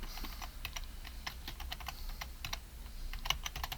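Rapid clicks of typing on a computer keyboard into a search bar, a quiet, close stream of keystrokes with brief pauses.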